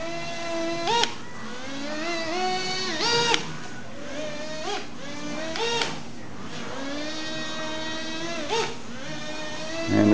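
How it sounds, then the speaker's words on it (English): A light propeller-powered slot car buzzes around a track like a wasp, its whining motor rising and falling in pitch as it repeatedly passes and recedes, loud and close with no talk. "it sounds like a wasp going around a track."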